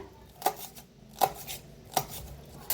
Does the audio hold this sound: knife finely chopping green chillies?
yes